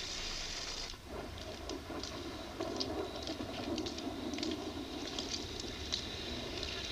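Rain falls as a soft, steady patter and hiss, faint and continuous, with a few slightly stronger spatters along the way.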